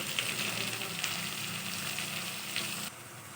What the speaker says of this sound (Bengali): হালকা ভেজে নিতে হবে যতক্ষণ না পর্যন্ত আদা রসুনের কাঁচা গন্ধটা যাচ্ছে